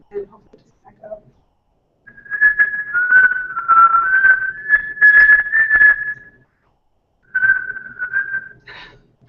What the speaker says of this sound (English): I'm going to whistle Mary Had a Little Lamb, and hopefully it doesn't echo.